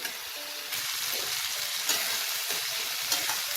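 Spiced masala with chopped tomato frying in a pan for dhaba-style egg masala, a steady soft sizzle throughout with occasional brief stirring scrapes and pops, close but fairly quiet, no talk.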